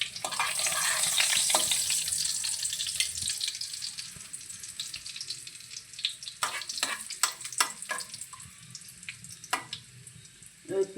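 Whole garam masala and a dried chilli spluttering in hot ghee, a loud dense sizzle that fades into scattered sharp crackles and pops, close up with no talking.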